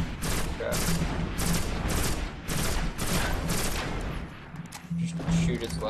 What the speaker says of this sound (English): this is a 3-shot burst gun, so I'm doing about a 150 each time I shoot